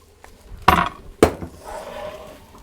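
Tofu scramble is stirred in a pan, with two sharp metallic clinks from the utensil hitting the pan and a soft scrape after them, close and without talk.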